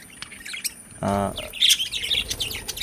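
Lovebirds chatter with sharp high chirps and squeaks, broken by one loud harsh squawk near the middle.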